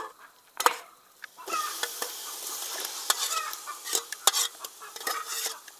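Cooked beef being stirred into biryani masala in a pan gives a run of scraping, clattering spoon strokes in irregular bursts over a light sizzle, close and fairly quiet, with no talking.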